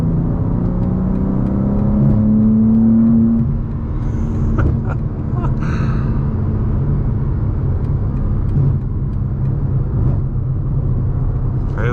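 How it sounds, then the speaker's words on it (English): A tuned BMW G87 M2 idles nearby with a loud, deep exhaust drone that rises briefly and settles back into a steady low rumble, with a few faint clicks inside the car. "Just sitting here idling, the exhaust sounds different."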